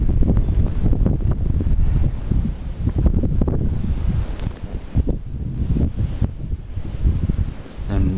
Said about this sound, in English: I've never felt winds like this in my life.